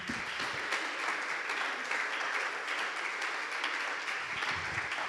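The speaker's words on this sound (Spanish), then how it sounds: "¿Por qué no le da un fuerte aplauso al Señor?" Church congregation applauding loudly during a service, a dense, sustained wash of many hands clapping throughout, close and full, with no speech over it.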